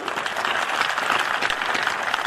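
An audience at a Hindi poetry recital claps in a steady, dense burst of applause that holds loud and close throughout, with no speech over it.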